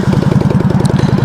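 A motorcycle engine idles up close in a quick, even, throbbing pulse, loud and steady across a brief stretch with no voices.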